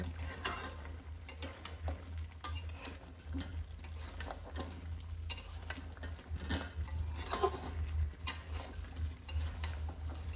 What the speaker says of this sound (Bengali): এই যে গরুর পায়ের নিহারি কষানো হচ্ছে, প্রায় কষানো হয়ে যাচ্ছে মশলাটা।